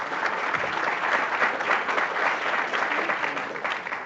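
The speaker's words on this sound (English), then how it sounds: "Round of applause for that." A room full of people applauding steadily, a dense wash of clapping that holds for several seconds and tapers slightly at the end.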